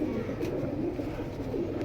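Afsan Bagha Silver pigeon cooing softly and steadily, a low murmuring coo close by with no talk over it.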